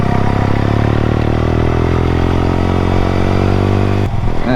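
Honda CBR125R engine heard while riding: a loud, continuous, close-miked drone with steady mid-pitched harmonics and wind rush, holding an even speed with a slight shift near the end.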